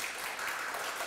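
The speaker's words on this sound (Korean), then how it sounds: "먼저 박수를 먼저 치고" Audience applause at a 2016 Korean critics' festival, a brief, dense wash of clapping at even loudness with no talk over it.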